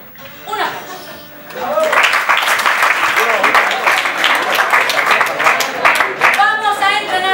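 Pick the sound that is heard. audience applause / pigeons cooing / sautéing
audience applause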